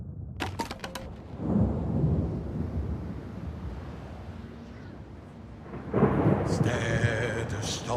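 A thunderstorm at sea in the VR game Another Fisherman's Tale: low rumbling thunder rolls with rain and wind, a brief clatter at the start and a louder crash of storm noise near the end.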